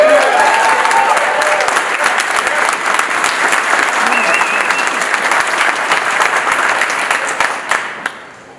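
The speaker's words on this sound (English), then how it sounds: "round of applause and Orange County welcome to Chairwoman Hahn." An audience at a county supervisor's swearing-in ceremony in Orange County applauds, a full, sustained round of clapping from a crowd that runs throughout and tapers off at the end, with voices mixed in beneath.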